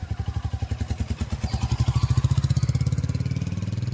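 A motorcycle engine chugs close by as it is ridden, its rapid thumping pulses speeding up and getting louder, with faint clatter over the running engine.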